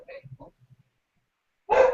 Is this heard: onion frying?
no